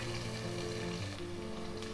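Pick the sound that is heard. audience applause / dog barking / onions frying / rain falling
onions frying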